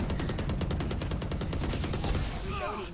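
Rapid automatic gunfire from the video game Valorant, a steady burst of close, loud shots for over two seconds before trailing off into fainter game effects.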